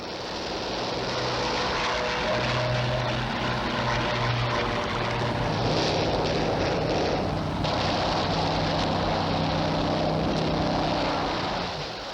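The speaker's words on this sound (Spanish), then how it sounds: "Los aviones de caza ingleses barren a la fuerza aérea de Goering de los cielos diurnos." British WWII propeller fighter planes drone overhead in a sustained, loud engine roar with wavering tones, the noise swelling and easing slightly without pause.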